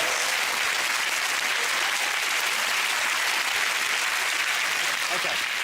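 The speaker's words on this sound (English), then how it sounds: "Give a round of applause." Studio audience at a televised sports comedy quiz show breaks into dense, steady applause that stays loud and even throughout, with no voices standing out.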